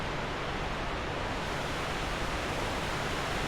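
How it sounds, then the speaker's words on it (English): Loud, steady roar of a large waterfall in the Dark Souls II video game, a dense continuous rush of falling water close by with no voices over it. "Underneath the super loud waterfall, lovely stuff."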